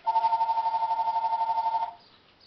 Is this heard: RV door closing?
no